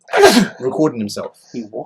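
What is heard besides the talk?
sneeze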